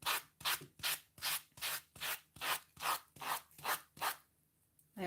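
Rhythmic rasping strokes of sandpaper rubbing a decoupage coaster, about ten even back-and-forth passes, close and clear, ending in a brief pause.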